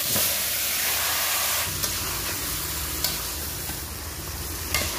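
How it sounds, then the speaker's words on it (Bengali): Chicken pieces are stirred and fried in hot oil with whole cumin, giving a steady, loud sizzle and hiss throughout, with a few faint scraping knocks from the stirring. "এবারে মাংস"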